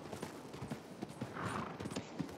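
Horse hooves clip-clop in Red Dead Redemption 2 Online, a steady run of moderately close hoof strikes with a brief whinny-like swell midway and no talk over it.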